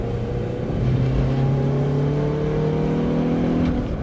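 A Hyundai i20N pulls hard out of a corner, its engine note climbing steadily in pitch as it accelerates, loud and close with a continuous roar and no voices.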